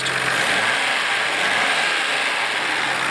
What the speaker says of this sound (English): GTR engines are noisy, and so this is a normal sound for this car.